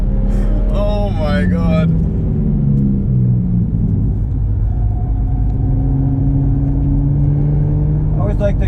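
A 500hp BMW M135i on a track, its engine droning low and steady close by, with people talking over it near the start and end.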